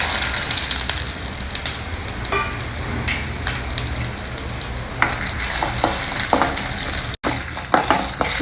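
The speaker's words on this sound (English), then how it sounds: "Just lightly fry them till the dals are well roasted" Dry red chilies, coriander seeds, chana dal and urad dal frying in hot oil, giving a dense continuous sizzle with scattered crackles and the scrape of stirring close by.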